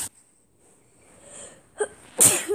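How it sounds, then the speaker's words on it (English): A single sharp sneeze bursts out at the end after a quiet intake of breath and a small preceding catch, loud and close with no talk around it. "Holy crap, I'm about to sneeze."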